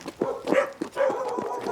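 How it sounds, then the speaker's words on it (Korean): A puppy at a rural farmhouse in Naju, Korea, gives a quick series of about four short, close yips and barks in under two seconds. "강아지도 있네."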